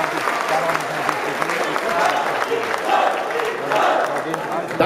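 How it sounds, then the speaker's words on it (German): Audience applause at a basketball team presentation between BSC Hagen-Haspe and BC Smolensk, steady crowd clapping for several seconds with some cheering and talk mixed in. "Ich denke, das ist auch ein Applaus wert."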